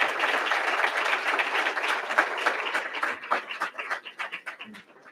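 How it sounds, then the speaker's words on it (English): Applause from an awards ceremony audience, dense at first and then thinning into scattered individual claps as it tapers off over about five seconds. "So give yourself a round of applause for making us excited to be here."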